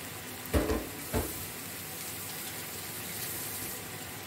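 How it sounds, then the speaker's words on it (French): Meat for a tajine sizzling in a pan, a soft steady hiss with two brief louder bumps of handling near the start, no voices. "je vais laisser un peu ma viande cuire d'un côté"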